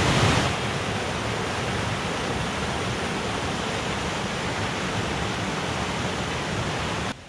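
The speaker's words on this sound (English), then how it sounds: "I crossed over countless streams and falls, all cascading down to the river Lyd below" Streams and waterfalls cascade through Lydford Gorge in Dartmoor, a dense steady roar of falling water that fills the whole clip, close and loud, with no talk.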